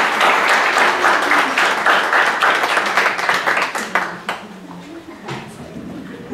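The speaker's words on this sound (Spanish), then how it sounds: "Por favor, demos un aplauso de bienvenida" A seated audience in a university lecture hall claps to welcome a speaker, dense and loud applause that thins and fades over several seconds.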